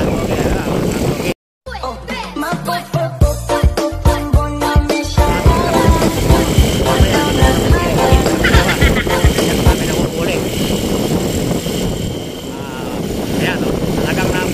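A race-tuned motorcycle in a Honda versus Bajaj contest in Nueva Ecija revs hard and loud, its engine pitch sweeping up and down in rapid bursts through repeated gear changes, with a voice talking over it.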